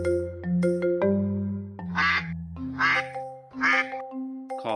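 Three bursts of duck quacking, like a cartoon or toy duck call from a children's story, sit over a steady musical backing of sustained tones.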